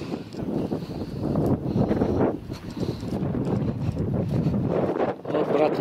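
Steady, gusty wind buffeting the microphone outdoors in Poteryaevka during poplar planting, a continuous low rumble that swells and dips throughout.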